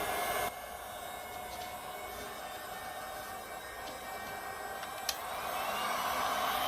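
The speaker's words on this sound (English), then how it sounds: "before I get out my handy dandy heat gun" Heat gun blowing hot air over milk paint, a steady broad hiss running loud and alone, with a brief sharp click near the end.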